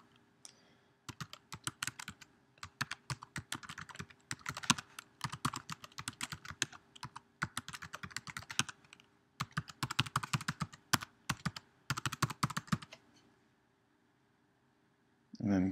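Typing an email address and password on a computer keyboard, with rapid, close, crisp key clicks in bursts and short pauses over several seconds before falling quiet.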